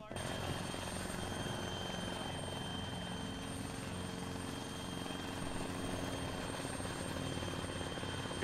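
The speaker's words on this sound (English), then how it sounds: "I think Zero's helicopter is going to be a priority fire mission." A helicopter in the military game Arma 3 comes in to land, its rotor drone and engine noise steady and fairly faint throughout.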